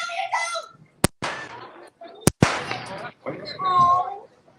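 Staged gunfire in a live western stunt show at Knott's Berry Farm: a few sharp, loud blank shots ring out between shouting performers' voices outdoors.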